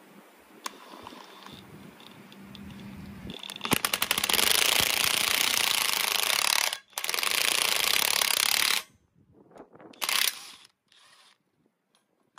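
Metal U-joint caps on a Polaris Ranger prop shaft are hammered or pressed out: scattered sharp clicks, then a long loud grinding, clattering mechanical burst, a short gap and a final brief rattle, with no talking.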